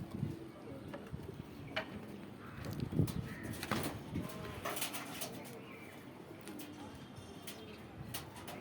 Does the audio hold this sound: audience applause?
no